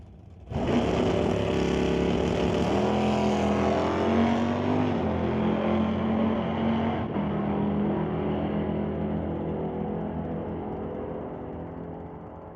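Super Pro drag racing cars, including the Rad Torque Systems S10 and the Titanium Auto Group car, roar at full throttle as a loud sustained engine note climbs and wavers, then gradually fades as they pull away.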